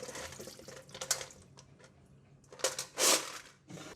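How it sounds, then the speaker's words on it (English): Water splashes and gushes in a few bursts as it is tipped out of a basin after washing cockles, with a louder pour near the end. "throw away the water"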